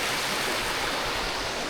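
Steady, full rush of water streaming down from the fell tops on a wild-camp walk near Seat Sandal, a close, continuous broadband roar with no talk over it.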